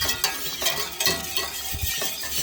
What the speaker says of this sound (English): I'm going to grab my whisk and just slowly whisk that to try to incorporate the buttery flour in